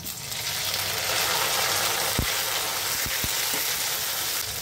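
Tomatoes frying in hot oil in a pan, with onions and green chillies, give a steady close sizzle throughout, broken by a few sharp knocks of a utensil against the pan.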